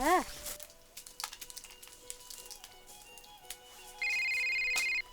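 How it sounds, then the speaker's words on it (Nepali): A mobile phone ringtone plays at home, with a short rising tone at the start and then a steady ring that lasts about a second, over quiet room sounds. "कसले फोन गर्यो?"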